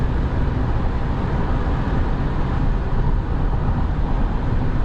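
Cabin road noise inside a Chevy pickup cruising at 70 mph on a highway, a steady loud low rumble and broad hum with no talking over it.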